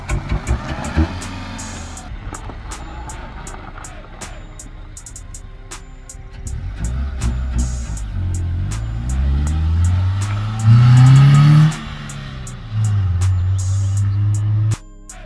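A Honda Accord with an F22 engine and a cheap intake setup is revved, rising from a low idle rumble into several loud, drawn-out revs with sharp climbing pitch, close and prominent, with faint ticking throughout.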